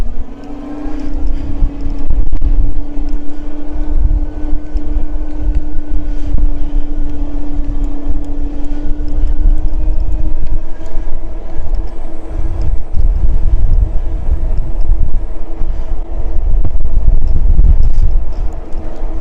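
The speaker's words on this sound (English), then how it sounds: "which is going to be super windy." Strong wind at the Grand Canyon South Rim roars and buffets against the microphone, a loud continuous low rumble that gusts and swells without letting up.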